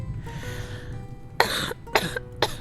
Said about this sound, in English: Sorry, my cough never goes away.